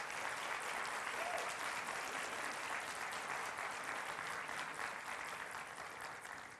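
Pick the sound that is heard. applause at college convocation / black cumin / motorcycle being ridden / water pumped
applause at college convocation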